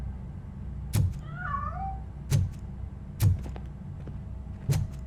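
A cat meows once, mid-pitched with a rising-falling wail, amid repeated sharp metallic thuds and clanks in a Robocop: Rogue City game scene, with low ambient hum underneath.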